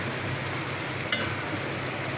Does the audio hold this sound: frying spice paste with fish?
yes